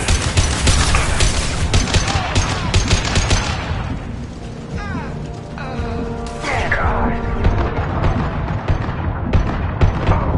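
Dense, near-continuous gunfire from Blue Suns mercenaries and Vorcha in the Mass Effect 2 video game, loud rapid bursts and overlapping shots with a brief lull midway before the shooting resumes.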